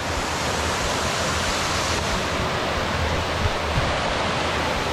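A waterfall beside a backpacking trail on the Old Loggers Path near Canton, Pennsylvania roars in a dense, constant, close rush of falling water with no other sounds.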